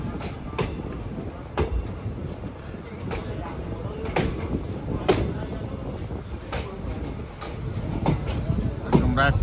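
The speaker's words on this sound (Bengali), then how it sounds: "এই যে আমাদের ট্রেন জংপুর স্টেশন পার হচ্ছে।" A Darjeeling train rolls past Jorebunglow station with a steady rumble broken by repeated clattering wheel clicks. People talk on board over the running noise.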